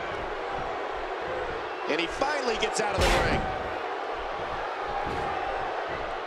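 A sold-out arena crowd roars through a WWE 2K16 tag-team wrestling match, a dense steady wash of cheering that swells around a loud ring impact midway, with a commentator talking over it.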